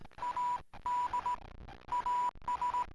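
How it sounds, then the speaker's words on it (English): Bursts of a steady electronic tone keyed on and off in short and long pulses, loud and clear, with brief silent gaps between groups. "Morse code"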